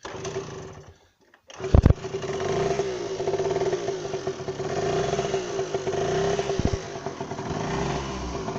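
Tomos AT 50 motorcycle engine catching after a brief quiet pause, then running loud and close with a buzzing, uneven idle and small throttle rises over about seven seconds.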